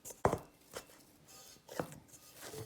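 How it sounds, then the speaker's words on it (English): Bread dough being kneaded by hand, giving a few soft slaps and pressing thuds at uneven intervals, close and fairly quiet, with no talking. "Knead this dough a little bit and get all of the moisture"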